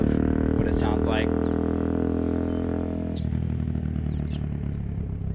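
A Yamaha TW200 motorcycle fitted with a Bradley exhaust rides past, its engine droning close and loud, then shifting pitch as it slows and moves away.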